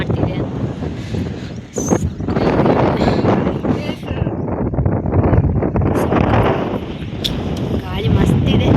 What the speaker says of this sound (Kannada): ಗಾಳಿ ಮಸ್ತಿದೆ.